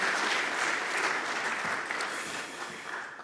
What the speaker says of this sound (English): Just a round of applause for the Sectoral Working Group on Manufacturing